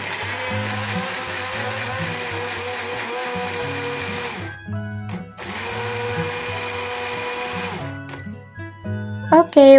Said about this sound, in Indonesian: Nah ini mau aku blend dulu ya guys bumbu halusnya, jadi nanti tinggal ditumis